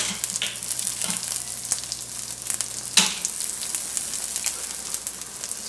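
An egg fries in a pan for a Southern-style breakfast burrito, giving a steady close crackling sizzle with scattered pops and one sharp louder burst midway, with no talking.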